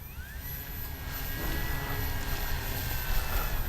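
A Durafly 1100mm T-28 RC model airplane flies overhead, its steady electric motor whine and tonal hum rising gradually louder and holding as it passes, alone with no talking.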